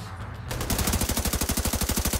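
Rapid automatic gunfire in The Division 2 starts half a second in and continues as a loud, evenly spaced stream of shots.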